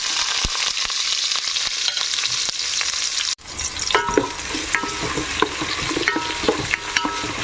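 Chopped onions and green chillies fry in hot oil for mushroom biryani, with a constant close sizzle broken by a sharp clatter midway, then spatula scrapes and stirring knocks over the crackle.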